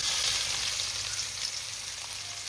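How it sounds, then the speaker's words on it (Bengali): Chopped onion hitting hot oil tempered with black cumin, a loud steady sizzle of frying that holds evenly throughout with no voices. "এবার আমি দেব এর মধ্যে কেটে রাখা পেঁয়াজটা।"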